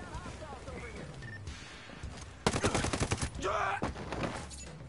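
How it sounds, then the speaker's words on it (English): Video game gunfire from a PS4 shooter, a burst of rapid automatic shots cutting in midway after speech, followed by more scattered firing with voices over it. "This dude is shooting at me."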